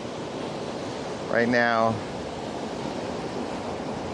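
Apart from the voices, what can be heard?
ocean waves at Summerhaven Beach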